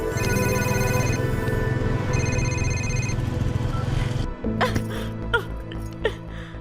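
A phone ringtone chimes in repeated bursts, then stops abruptly, followed by a few clicks and quiet throat sounds.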